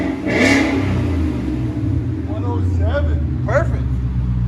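Ford Mustang GT with a 5.0 Coyote V8 and Flowmaster 40 series exhaust revving, a steady loud engine roar throughout with a sharper rise near the start, while people talk over it.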